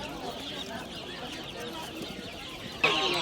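Chickens and chicks at a poultry market in Manas cluck and peep softly and fairly faintly over a busy background, with voices nearby and a brief sharp noise near the end.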